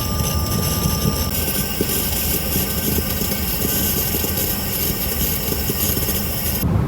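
Steady, loud broadband roar inside the cabin of an Embraer ERJ 175 jet on approach to Pune, a continuous engine and airflow rumble that holds level throughout with a faint tonal whine above it.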